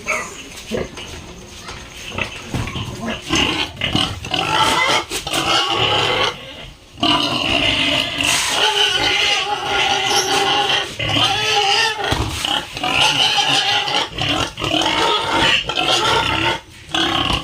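A crowd of piglets on a farm grunts and squeals constantly and loudly at close range, with dense, overlapping noisy calls that barely pause.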